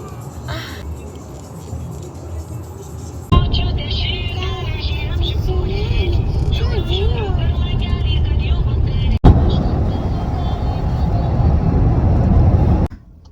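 A car drives along a scenic road in Czechia, with a steady rumble of engine and tyres throughout, a sharp knock partway through, and a voice speaking over the road noise.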